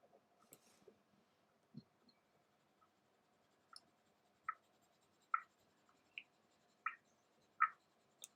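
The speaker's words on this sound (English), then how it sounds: "So, because the mains are a bit uneven, I try to already, even though I'm doing just shading, keep them a bit uneven." Colour pencil shading on paper during a beginner drawing session, heard as quiet scratchy strokes that build into several louder rhythmic bursts of scribbling toward the end, close up with no talk.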